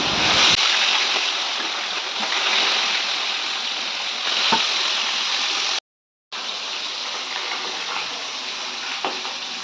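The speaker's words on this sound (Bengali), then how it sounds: "আর দিলাম মাছটা ভাজতে" Fish sizzles in a hot frying pan in a home kitchen, a steady broad hiss of spitting oil, close and continuous, broken by one brief silence.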